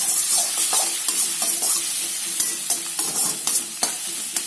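Oil frying steadily in a pan while idiyappam egg biryani is cooked, a continuous close sizzle broken by irregular stirring scrapes and light clinks.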